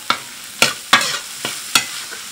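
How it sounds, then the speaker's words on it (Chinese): A spatula scrapes and clacks in a wok five times at an uneven rhythm as meat is stir-fried with scallion, ginger, garlic, dried chili, salt, Sichuan pepper powder and thirteen-spice, a soft sizzle underneath and no voices. "我们把肉上的水分炒干以后下料，葱姜蒜干辣椒、盐花椒粉和13香"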